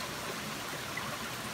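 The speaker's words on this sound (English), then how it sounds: "Being in the river now" River water flowing steadily around a prospector wading in a river while gold prospecting and relic hunting, a continuous even rushing wash with no breaks, fairly close and moderately loud.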